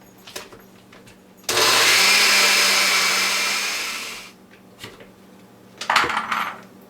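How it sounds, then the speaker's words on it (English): Blender whirring loudly as it purees frozen pineapple until smooth, a steady motor roar lasting a few seconds before stopping, with faint kitchen clatter around it. "I got my pineapple in the blender. I'm just going to blend it up until smooth"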